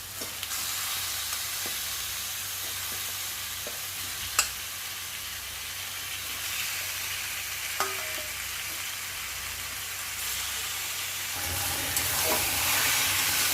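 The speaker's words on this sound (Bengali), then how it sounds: "মাংসটাকে ভালো করে কষিয়ে নেব অনেকক্ষণ সময় নিয়ে।" Meat that has been washed and rubbed with salt and turmeric sautés with spices in a pan, a steady close hiss and sizzle with a few sharp clinks of a utensil, rising slightly near the end.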